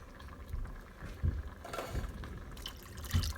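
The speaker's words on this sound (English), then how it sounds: "I like to pour my water in my can and be able to get up that last little bit in the can" Water from a can pours into a pot of American goulash, a soft continuous splashing and gurgling close by with a few heavier sloshes, fairly quiet.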